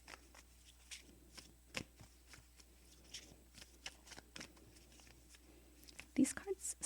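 Angel cards for a reading being shuffled by hand in a series of soft, quick riffling bursts, quiet and close, growing louder with sharper snaps near the end.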